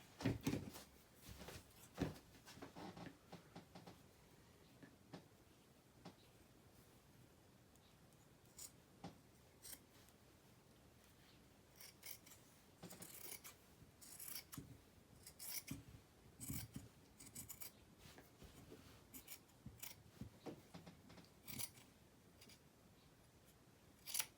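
Scissors cutting fabric while a men's shirt is turned into a duster: quiet, close snips and rasping blade strokes in irregular bursts across the clip, with short pauses and no talking.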